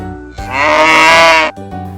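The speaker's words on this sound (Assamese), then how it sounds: "গৰুৰ মাতটো শুনো আহাচোন" A domestic cow gives one loud, drawn-out moo close by, rising and holding for about a second before cutting off, with no other sounds around it.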